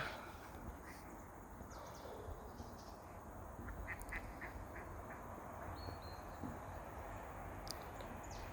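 Two pairs of wild ducks feeding and resting on the water give soft, distant quacks, clustered mostly in the middle stretch, over a constant low outdoor hiss.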